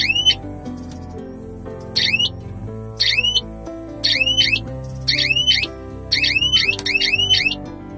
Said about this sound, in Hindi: ये ऐसी आवाज देता है जिससे किसान को पता लग जाता है कि कोई जानवर, कोई चीज तार से टच हुई